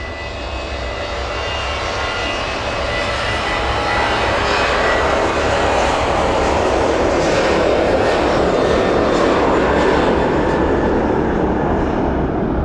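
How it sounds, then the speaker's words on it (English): A passenger airliner rolls down the East Midlands Airport runway on an evening takeoff, its engines building into a loud, steady, broadband roar that swells and holds close throughout, with no talk over it. "Straighten up there before it commences its takeoff roll,"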